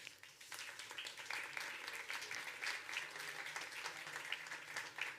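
A room of attendees at a public transport innovation and sustainability session applauds steadily at a faint, distant level, a continuous wash of many hands clapping with no voices on top.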